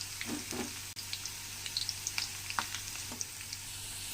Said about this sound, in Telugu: పోపు సామాను యాడ్ చేసుకుందాం ఇది కూడా చక్కగా కలుపుకొని ఒక ఫైవ్ మినిట్స్ వరకు ఫ్రై చేసుకుందాం